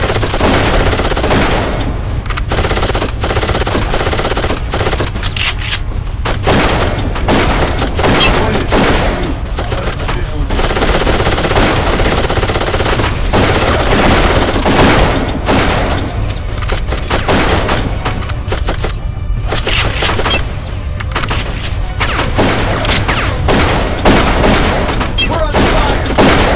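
Dense, continuous gunfire from the Pompeii battle in the Darkest of Days video game: rapid automatic bursts and booming shots packed together at high volume throughout, with game voices occasionally audible beneath the shooting.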